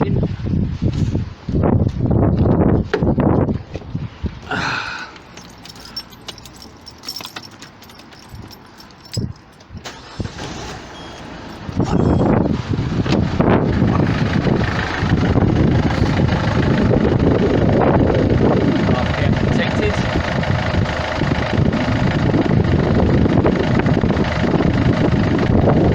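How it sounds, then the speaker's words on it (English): Keys jingle, then a car engine cranks and catches, settling into a steady running rumble outdoors with some wind. "Let's start the engine."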